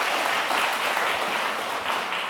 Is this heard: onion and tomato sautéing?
no